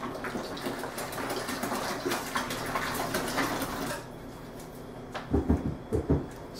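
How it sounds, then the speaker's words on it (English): Water pours steadily into a home-brewing pot for about four seconds, then stops, followed by a few clanking knocks of metal. "I'll go ahead and top it off to 5 gallons with cold water."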